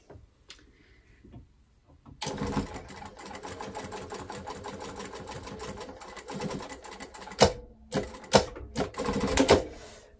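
Sewing machine stitching the edge of a small pocket on a babette trouser, starting after about two seconds of near silence, running steadily up close, then stopping with a few sharp clicks and bursts as the thread is cut automatically.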